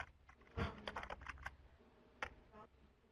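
Fingers typing a search term on a computer keyboard, a short run of soft, close key clicks with a brief pause before a final few taps, quiet and without speech.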